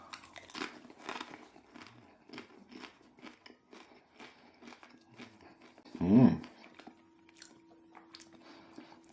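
One crunchy bite into flatbread topped with Shepherd's Blend cheese, a mild, melty cheese from Carr Valley, lands near the six-second mark; the chewing is close up and otherwise quiet, with faint clicks and soft mouth sounds around it.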